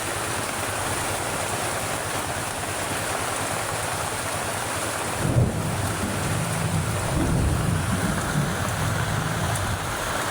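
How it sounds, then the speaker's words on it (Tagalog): Heavy rain pours steadily, a dense roar of water drumming into a drum, with a brief knock midway and no voices. "Nasapol po sa drum ko ang tubig na ulan."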